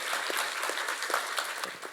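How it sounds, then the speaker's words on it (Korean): An audience at a Korean economic forum applauds to welcome the next panel speaker, producing a steady, moderately distant wash of clapping for the whole stretch. "큰 박수로 맞이해 주시죠"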